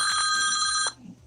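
A telephone bell rings in a steady, loud electronic trill for just under a second, then cuts off, leaving near silence.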